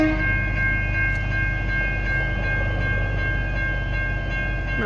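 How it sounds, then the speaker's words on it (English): A V/Line diesel train, locomotive N451, rolls past nearby at South Geelong with a heavy, steady rumble and a sustained droning tone, loud and continuous throughout. "Here goes the train."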